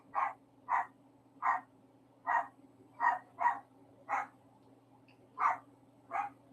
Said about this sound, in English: I don't know if you can hear her barking right now, but Mimi's doing all right.